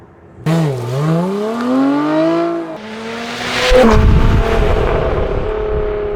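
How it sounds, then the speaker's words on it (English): A Lotus sports car accelerates hard through the gears, the engine note rising steadily, then dropping at a shift before climbing again, loud and close with a rough, sustained roar and no voices. "if you choose your shift points properly, it's just a single surge of acceleration as you go through the gears"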